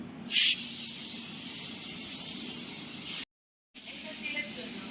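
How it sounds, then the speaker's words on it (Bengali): Hilsa fish hits hot oil with a sharp hissing burst, then settles into a steady, close sizzle that cuts out briefly before resuming. "ইলিশ মাছের তেল নেওয়া হয়েছে এবার ইলিশ মাছ ভাজা"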